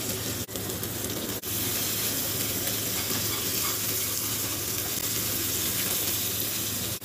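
Onion, garlic and tomato sauté in hot oil, a dense, loud, continuous sizzle and hiss that holds steady throughout with only a couple of brief dips and no voices.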